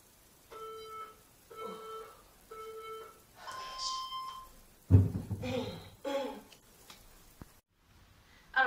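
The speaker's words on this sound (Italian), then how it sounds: "Mettiamo il timer." A workout interval timer sounds three evenly spaced beeps followed by a longer tone, close and clear, before noisy movement and short bursts of sound from exercise.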